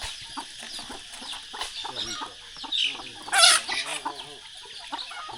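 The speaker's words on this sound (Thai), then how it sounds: "คือเบิ่งไก่พี่น้อง" Village chickens in rural Laos cluck in short repeated bursts nearby, one sharper squawk standing out amid soft ambient noise.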